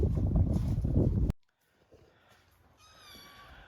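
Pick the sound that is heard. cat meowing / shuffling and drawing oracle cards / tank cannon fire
cat meowing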